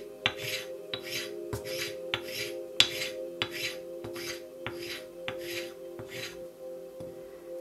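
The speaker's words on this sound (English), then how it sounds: "I'm going to scrape that down to the ink well part of the stone" Thick ink scraped across a Chinese ink stone toward its well, about a dozen evenly spaced rasping strokes with a steady rhythm, close and fairly quiet, with a low hum underneath and no talking.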